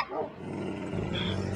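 Tamed wolves barking in the Minecraft Xbox One Edition game, a brief burst of dog-like yaps and growls with a busy game backdrop and no clear talk.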